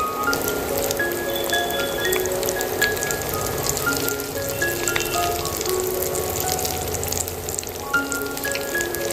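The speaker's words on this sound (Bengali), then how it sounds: "এরকমভাবে আমি আরো চপগুলো আস্তে আস্তে ছেড়ে দেবো, দিয়ে ভেজে নেব।" Meat chops frying in hot oil, a continuous crackling sizzle with scattered sharp pops throughout, moderately close and steady, with no talking.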